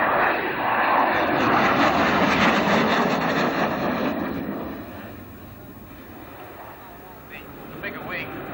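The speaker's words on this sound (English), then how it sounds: "Yep, just let Nick do his flyby here. The aircraft flying by, as we've just seen it" A fixed-wing aircraft with a larger wing passes over an airfield in a flyby, its engine roar loud and building before fading away; talk is heard during the pass.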